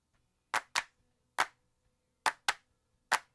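Several crisp hand claps stacked from eight layered recorded clap tracks in a music mix, landing in an uneven rhythm with short decays against silence.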